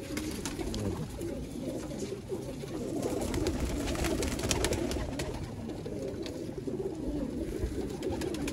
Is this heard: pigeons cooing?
yes